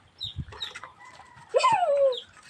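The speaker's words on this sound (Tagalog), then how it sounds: "Oh, manok." A chicken clucks a few times, then lets out a louder drawn-out squawk, close by with quiet background.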